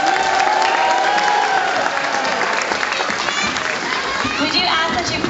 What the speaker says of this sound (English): please give him lots of praise in the form of cheering and clapping